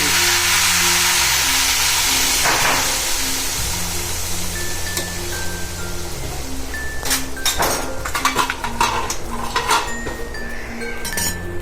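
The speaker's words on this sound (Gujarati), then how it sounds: "એકદમ લસણ પકડી ગયું તો હું આમાં વઘારી નાખું" Garlic tempering sizzles loudly in a hot pan while preparing ragda, a steady frying hiss with occasional metallic clinks of a utensil against the pan and no talking.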